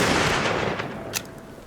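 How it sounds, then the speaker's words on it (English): Gunfire in a film scene of an assassin shooting, a loud burst of sharp shots with a ringing tail, followed by a couple of fainter cracks. "pulls the trigger again without emotion."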